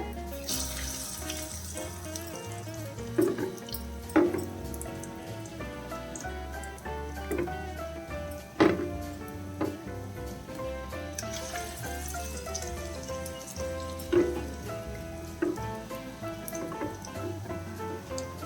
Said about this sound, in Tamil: சீக்கிரமாக ஃப்ரை ஆகிடுது டைமே தேவையில்லை